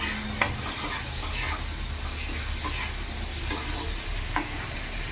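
Mourola fish sizzles steadily in a pan with chopped tomato, a constant close frying hiss broken by a few sharp stirring clicks from a spatula.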